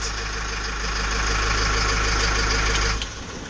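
A vehicle engine runs with a steady low rumble and mechanical clatter, idling close by, then drops off abruptly near the end.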